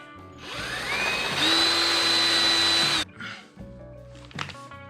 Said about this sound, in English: Forget the file. We're grinding.